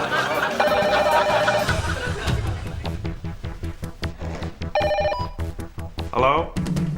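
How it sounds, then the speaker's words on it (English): A telephone rings amid a busy scene, short trilling bell bursts rising over background music and chatter, with people talking throughout. "The phone rang"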